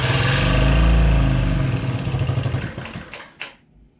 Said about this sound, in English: I'm going to try turning the idle down.